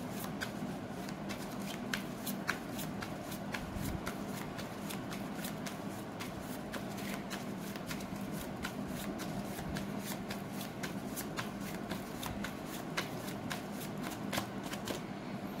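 Steady riffle-and-snap of a tarot deck being shuffled up close, a continuous crisp card flutter with regular sharp clicks, heard alone without talk for the whole stretch.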